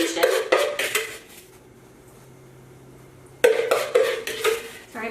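A spoon scrapes and clatters loudly against a bowl while mixing a unicorn sugar scrub, two bursts of gritty scraping separated by a quiet pause, close to the listener.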